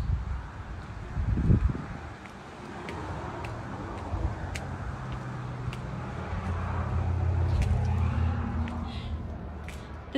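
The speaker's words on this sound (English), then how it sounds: "there still is a little bit of road noise when you're outside" Road traffic passes outside a stucco house, a low rumbling drone that swells gradually toward the end, mixed with wind buffeting on the microphone and light rustling, without speech.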